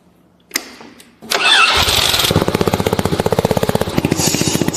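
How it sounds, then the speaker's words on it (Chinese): A homemade motorcycle engine is started in a workshop: a click and brief cranking, then it catches and runs with a loud, rapid, even chugging that carries on to the end. "我们的发动机燃起来啊"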